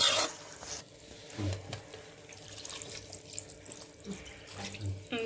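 Water is poured and splashes into a pan of okra masala curry, with uneven gurgling, tap-like splashes and stirring sounds up close, no talk.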